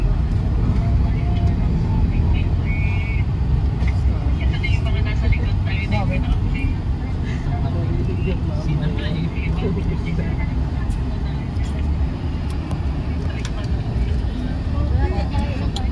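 City buses around Philippine Arena idle and roll past with a constant, loud engine rumble and traffic noise, while people nearby talk over it.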